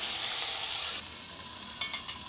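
Crab and potatoes with China shak stalks sautéing in a pan, a soft steady sizzle that drops quieter after a second, then a couple of brief stirring scrapes.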